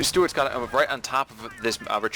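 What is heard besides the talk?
No everyday noise stands out behind the speech.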